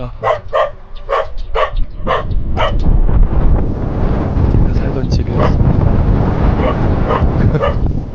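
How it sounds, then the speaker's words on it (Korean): A dog barks in a rapid burst of sharp, close barks outside a house in rural Wonton, Gangwon Province, then keeps barking more sparsely under wind noise while a person speaks. "제가 괜히 개를 짖게 만들었네"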